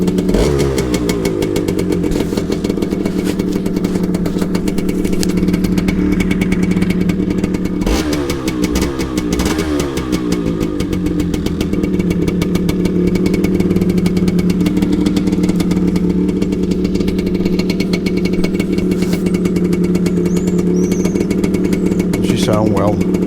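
A Suzuki TS125X two-stroke motorcycle engine runs close by, a steady buzzing idle with brief blips of revving partway through, continuing loudly throughout.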